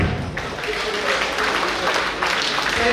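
Audience applause at a Rotary district banquet dinner: a dense, loud wash of clapping that holds steady for a few seconds, with some talk mixed in.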